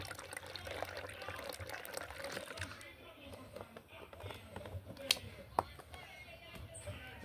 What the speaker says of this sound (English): We're gonna add the milk